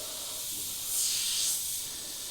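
An Iwata HP.CH airbrush, fresh out of the box, sprays paint in a steady airy hiss that swells briefly in the middle, with no voices.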